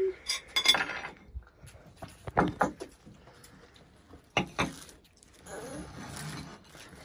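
Plates and cutlery clink and scrape in a bursty, irregular pattern of sharp close taps, with a few louder knocks and some background voices, while a pasta meal is served.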